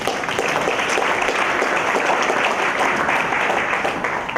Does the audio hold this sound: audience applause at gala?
yes